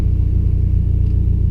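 A 4th-generation Subaru Legacy GT drives past with a steady, loud, close low rumble from its engine, continuous throughout with no voices.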